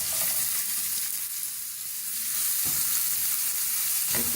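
Chopped onions and crushed roasted cumin sizzle in hot oil in a pan while vegetable kebabs are prepared. A steady, close hiss of frying runs throughout, with a brief stirring rustle partway through and no talking.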